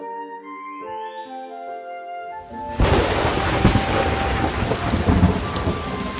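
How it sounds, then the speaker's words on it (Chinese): Thunderstorm: a long rolling rumble of thunder fades into a sudden, loud, steady downpour of rain with dense patter continuing to the end, alongside a brief musical tone at the start. "屋外暴风雨持续发威"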